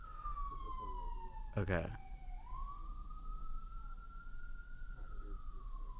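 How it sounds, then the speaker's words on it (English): Emergency vehicle siren sweeping past in traffic, a steady wailing tone that dips and rises again, with a brief short voice in the middle and street rumble beneath. "Should we stop for the sirens?"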